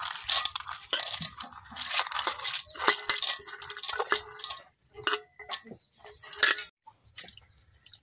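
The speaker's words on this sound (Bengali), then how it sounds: "আগে দিয়ে দিতেছি ডাল।" Washed red lentils (masoor dal) tipped into a kadai for a village-style dal with papaya, making scattered rattling clinks and crunchy patter in uneven bursts, close by with no talk.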